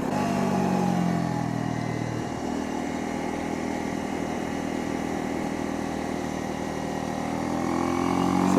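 A Honda CL250 motorcycle engine on a test ride, a steady mid-pitched drone holding an even pace under road and wind noise, swelling slightly toward the end, no voices.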